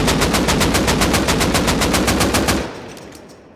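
Rapid automatic weapon fire in Rust Console Edition, a loud, evenly spaced burst of about twenty shots fired alone, then cutting off abruptly into a fading echo.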